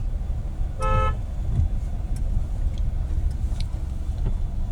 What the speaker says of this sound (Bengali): হর্ন মারতে থাকো